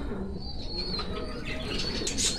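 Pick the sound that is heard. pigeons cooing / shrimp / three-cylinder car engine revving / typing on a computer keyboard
pigeons cooing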